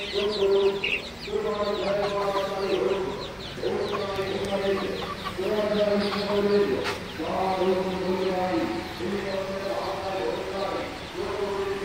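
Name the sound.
silkie chickens clucking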